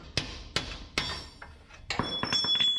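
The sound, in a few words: hammer hitting a truck suspension part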